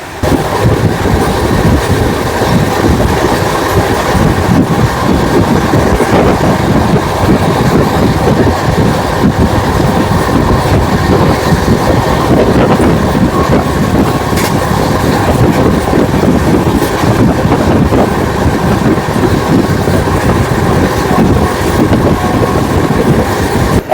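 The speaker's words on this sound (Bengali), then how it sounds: "আমাদের ট্রেন কিন্তু এখন বেশ ভালোই স্পিডে যাচ্ছে" Passenger train from Kolkata to Amritsar running at speed, heard from inside the coach as a loud, continuous rumble with a rattling wheel clatter that holds steady throughout.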